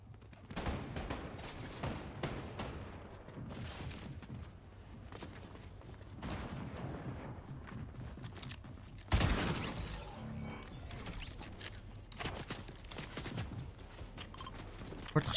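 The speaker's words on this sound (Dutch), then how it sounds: "Wordt geschoten." Fortnite gunfire cracks out in scattered bursts and single shots at mid distance. One louder, closer shot stands out partway through, with quieter footsteps and game ambience in between.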